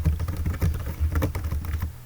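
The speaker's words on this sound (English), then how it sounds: "I swear I'm just typing as randomly as I can" Rapid, irregular keystrokes on a computer keyboard, close and fairly quiet, a dense patter of clicks with no voices.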